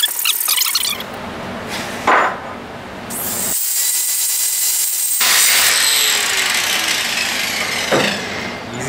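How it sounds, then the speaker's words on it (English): A hacksaw cutting through small metal bolts, loud close strokes that rasp and squeal in long back-and-forth pulls with brief pauses between them. "I'm just going to use the hacksaw."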